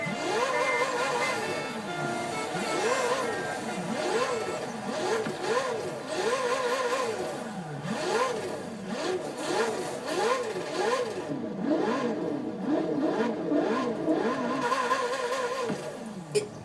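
A high-revving Ferrari 458 3.9-litre twin-turbo V8 in the game Forza Horizon 4 rises and falls repeatedly through gear shifts, loud and continuous, with a synthetic, game-like tone and no talking.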